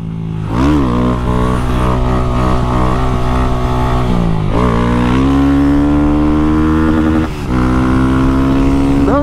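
A Honda Start 190 motorcycle on a highway runs flat out in third gear at around 100 km/h, its engine droning loud and close with rising pitch sweeps as it pulls and shifts, wind roaring steadily underneath.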